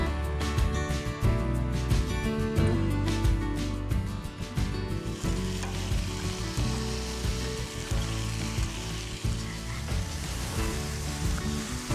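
Silver carp fillets laid on a dry, oiled grill surface, giving a loud continuous close sizzle and crackle that runs throughout, alone.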